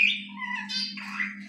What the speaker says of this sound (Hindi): मैना भी हमारी माशाल्लाह बोल रही है